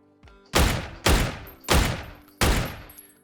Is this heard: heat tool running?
no